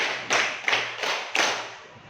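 Schoolchildren in a classroom clapping hands together in a counted sequence, four sharp group claps spaced roughly evenly over two seconds, near and moderately loud.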